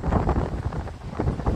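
Gusty wind buffets the microphone on an open walkway around the grand mosque in Banda Aceh, a steady breathy rush with brief swells throughout.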